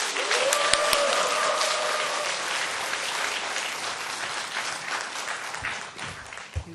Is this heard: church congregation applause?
yes